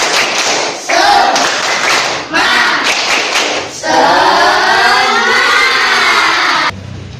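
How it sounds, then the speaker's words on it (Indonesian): A class sings a children's clapping song, the voices carrying a steady tune while sharp hand claps tap out the beat in short bursts, with a brief pause partway through. "Kalau kau suka hati tepuk tangan."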